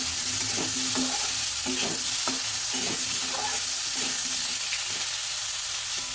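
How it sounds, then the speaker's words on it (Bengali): Sarpunti fish and potato pieces seasoned with salt and turmeric fry in hot oil, a loud continuous sizzle with scraping stirring strokes recurring in an uneven rhythm close by. "নুন হলুদ দিয়ে মাছগুলো আলুগুলো ভেজে নেব"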